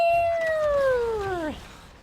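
A voice imitates a cat's meow with one drawn-out, wavering, falling mew of about a second and a half that ends in a quick downward slide, under faint background chatter from an esports broadcast.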